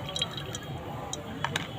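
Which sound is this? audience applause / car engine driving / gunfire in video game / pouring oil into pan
pouring oil into pan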